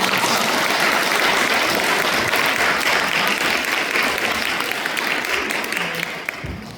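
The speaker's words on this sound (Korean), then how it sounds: "다시 한번 합창단에 큰 박수 부탁드립니다" Sustained applause from a large congregation at a Won Buddhist temple service, applauding a choir, a dense steady roar of clapping that holds strong and then starts to thin out near the end.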